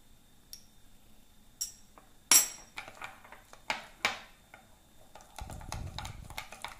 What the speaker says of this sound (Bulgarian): Разбъркваме много добре.